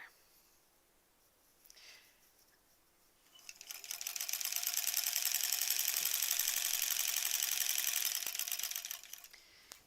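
Sewing machine stitching sashing strips for a granny squares quilt, a faint shuffle first, then a steady, fairly loud mechanical whir building and running for several seconds before winding down.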